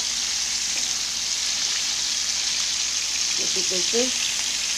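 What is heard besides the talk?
shrimp frying in a pan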